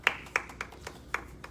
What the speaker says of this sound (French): On applaudit cet esprit de Dieu dans la vie